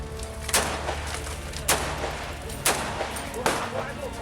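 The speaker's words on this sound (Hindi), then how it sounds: "दोनों ओर से चलती हैं ताबड़तोड़ गोलियां" Four sharp gunshots from an exchange of fire in Kashmir ring out at irregular intervals over a low background rumble, each loud and echoing briefly.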